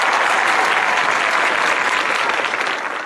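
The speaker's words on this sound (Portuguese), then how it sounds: "Ó, palmas, palmas" Studio audience applause on a Brazilian agricultural TV program, a loud, dense burst of clapping that stays strong throughout and tapers off slightly at the very end.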